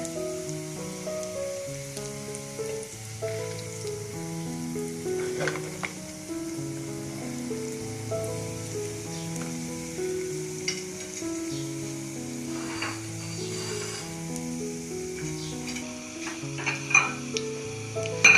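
Potato-stuffed bread rolls fry in a pan, a continuous low sizzle and crackle of hot oil that runs under melodic background music, with a few sharper pops.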